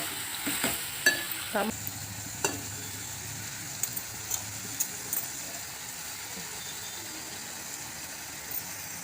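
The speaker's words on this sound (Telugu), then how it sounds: "ఇది కూడా మగ్గిపోయిందండి సొరకాయ వేద్దాం" Pieces of bottle gourd hit a hot pan with a brief loud sizzle, then a low hiss of frying continues while a spoon scrapes and taps the pan every so often; no talking.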